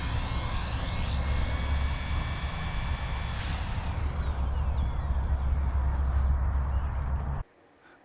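A Razordon Black Hawk UH-60L model helicopter whines loudly up close, its high motor pitch sliding downward as it settles to land, then the engine cuts out.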